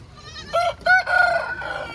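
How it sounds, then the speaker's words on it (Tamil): A white rooster crows once, loud and close, a short strained call that breaks and then stretches into a long high note. "வெள்ள சேவல் பாரு"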